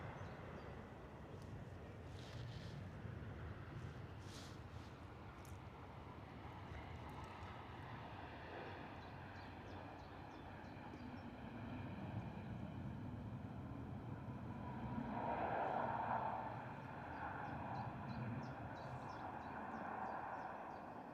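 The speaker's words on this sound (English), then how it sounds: "we're going to keep eyes on this beautiful departing Ryanair" A Ryanair jet departs London Stansted Airport, and a steady, broad engine roar fills the whole stretch. It swells slightly near the middle and stays fairly distant, with no talk over it.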